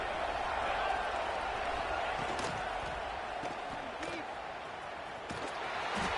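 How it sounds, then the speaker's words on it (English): A stadium crowd in the NCAA 26 college football video game roars in a steady, dense wash of cheering, with a commentator talking over it. "Listen to the crowd energy here in the early going."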